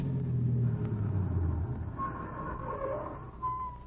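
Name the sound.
car approaching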